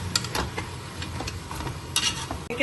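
Mutton with ginger and garlic frying in a pan, with a low steady sizzle and a few scraping stirs of a spoon, close and moderately quiet.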